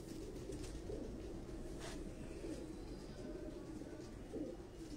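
Soft, low racing pigeon coos repeat over a constant murmuring background, distant and faint, with occasional fluttery sounds.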